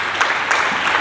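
A church congregation claps warmly for Jesus at a worship service, a dense, steady roar of many hands filling the room, unbroken for the whole moment.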